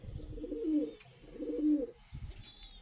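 Adult pigeons coo in two low, rounded phrases close by, each swelling and fading, with a brief softer call toward the end and no one speaking.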